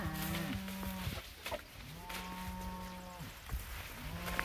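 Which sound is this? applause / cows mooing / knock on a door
cows mooing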